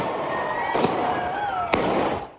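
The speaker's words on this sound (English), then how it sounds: "He fired several shots." Gunshots ring out at a crowded street protest downtown, two sharp loud cracks about a second apart over a continuous noisy background with a tonal whine.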